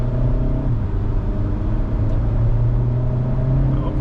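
Hyundai Elantra N engine pulling hard under acceleration, a steady loud mid-range drone with a deep rumbling low end heard from inside the car, continuous for about four seconds with no talking.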